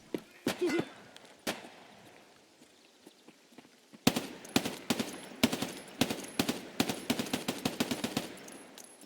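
Gunshots in Escape from Tarkov PvE: a few scattered single shots, then a dense run of rapid sharp cracks in quick succession, fairly close and loud, with no talk over them.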